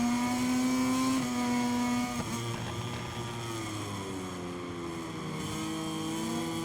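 A MotoGP racing motorcycle in the MotoGP 23 video game accelerates hard after running onto the grass, its engine whining loudly with rising pitch, a gear shift and another climb, close and continuous.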